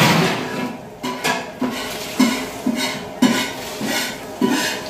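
A metal kadhai being handled on a home kitchen stove, giving a series of distinct clanks and scrapes in an uneven rhythm, close and fairly loud with no talking.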